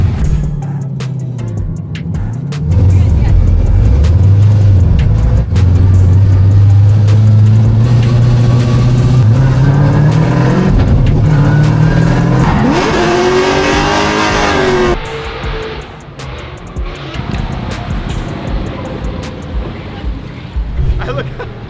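Race car driven hard on a circuit, engine close and loud, rising and falling through repeated revs and gear changes, with a sharp high climb before the note drops back.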